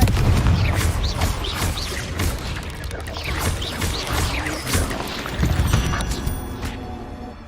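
Confringo fire spell explosions in the video game Hogwarts Legacy: a rolling series of deep booms and crashing blasts with debris-like clatter, loud and dense throughout.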